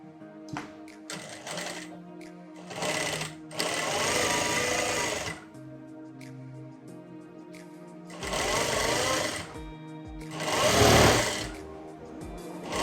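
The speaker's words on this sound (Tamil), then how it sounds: "இந்த துணியும் விலகி வராமல் இருக்கிறதுக்காக நம்ம இங்கே ஒரு தையல் ஓட்டிடலாம்" A sewing machine stitches lining cloth in several loud, rapid whirring runs of a few seconds each. Quiet pauses and faint handling noises separate the runs.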